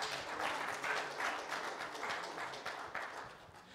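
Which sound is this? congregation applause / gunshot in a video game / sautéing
congregation applause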